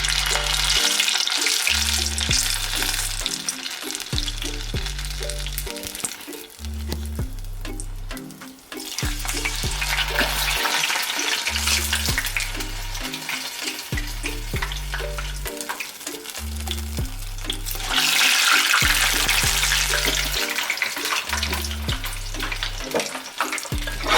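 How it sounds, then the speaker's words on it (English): Nigerian puff puff dough made from three ingredients with yogurt and no yeast, scooped into hot oil, sizzles and crackles steadily and loudly, with a regular low beat of background music underneath throughout. "our oil is hot and is ready to be fried"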